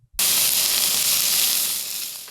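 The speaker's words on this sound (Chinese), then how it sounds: "把牛排放到高温铁板煎得滋滋作响" Japanese wagyu steak sizzles loudly on a hot iron griddle, a sudden bright hiss that starts sharply and holds steady, fading slightly near the end with no voices.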